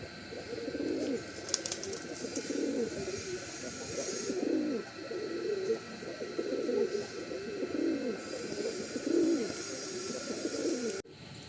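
Kalanka pigeons coo softly and continuously, a low murmuring burble from several birds at once, fairly faint, with a faint background hiss and a brief click near the end.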